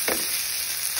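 Steady crackling sizzle of tilapia fish frying in hot oil, close up, with a couple of brief soft clatters.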